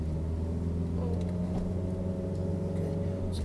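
A car engine held in low gear during a learner's first driving lesson, a steady low droning rumble heard from inside the cabin, continuous and moderately loud with no clear gear change.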